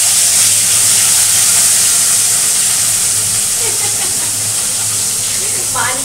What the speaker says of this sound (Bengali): তেল গরম হয়ে এসছে। এবার দিয়ে দেব মাছগুলো।